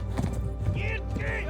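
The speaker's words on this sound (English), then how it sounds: "Yep, I'm on the horse." Hooves clip-clop in a steady galloping rhythm as a horse runs in Kingdom Come: Deliverance, with an occasional neigh and game music, while a person talks over it.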